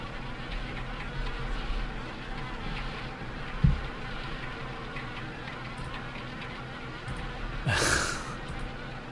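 Wasps buzzing in the Harvester video game: a faint, steady insect drone with a brief louder buzz passing close near the end, with no voices.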